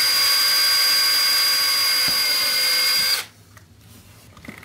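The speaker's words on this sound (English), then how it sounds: "I'm going to start out drilling a pilot hole out." A power drill bores a pilot hole into an H&R Survivor shotgun stock for a shell holder, a loud steady high-pitched whine lasting about three seconds before cutting off abruptly, leaving only faint room noise.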